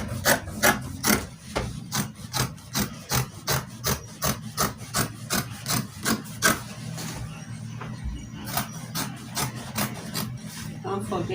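Scissors cut through dress fabric for a one-shoulder shift dress in close, rhythmic strokes, an even run of crisp cuts with a brief pause before the cutting picks up again.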